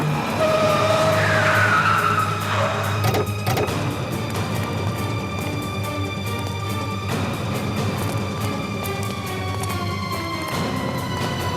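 A car with a punctured tyre skids with a rising whine and rough scraping, then settles into a sustained grinding road roar with engine drone and a broad hiss.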